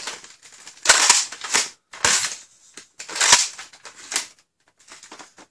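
An X-Shot Excel Max Havoc toy blaster fires through a chronograph in a few sharp, close snapping shots. Quieter clicks of handling come between the shots.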